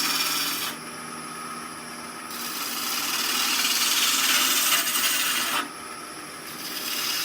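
Green wood being shaved on a lathe, a continuous close rasping, hissing cut that swells louder through the middle as the tool bites in, with brief lighter moments near the start and end, no talking.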